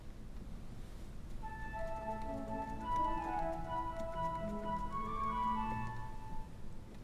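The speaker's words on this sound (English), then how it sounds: "controls some of the quieter orchestral sounds like this beautiful flute" The flute stop on the orchestral manual of the Kotzschmar pipe organ plays a soft, quiet melody of sustained pure tones over a low background rumble, faint and somewhat distant.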